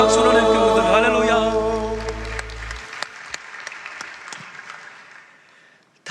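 Church congregation applause swells over the fading end of a sustained music chord, then thins into scattered claps that trail off before a sudden loud burst at the close.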